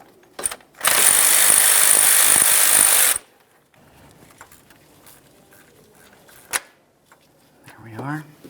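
Bolts being loosened on a 2007-2013 Acura MDX while its camshaft position sensor is replaced: a loud, steady burst of tool noise lasting about two seconds, then quieter scattered clicks and one sharp knock.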